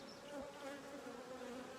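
Honeybees buzz steadily around queen cells in a hive, a close, continuous hum with a sustained droning tone and no talk.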